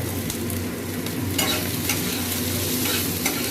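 Onions sizzle in oil while being stirred around a pan for chowmein, a steady close frying hiss broken by repeated scraping stirs over a low constant hum, with no voices.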